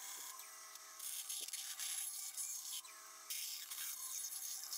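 Small rat tail file rasping on oak wood: repeated scraping strokes in a steady back-and-forth rhythm, close and clear with no talking.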